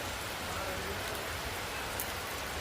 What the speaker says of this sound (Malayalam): തോരാത്ത മഴയാണ് പെയ്തുകൊണ്ടിരിക്കുന്നത്